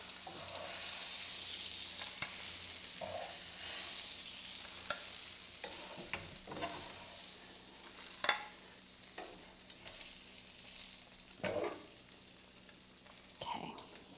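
Chicken pieces for chicken parmesan fry in a pan with a steady hissing sizzle, broken by intermittent scraping and tapping as they are moved and turned, close and fairly quiet.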